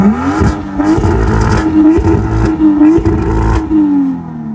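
BMW M2 engine revving loudly up close, with repeated rising and falling throttle blips over a gritty exhaust rumble.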